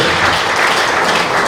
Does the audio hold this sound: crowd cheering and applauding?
yes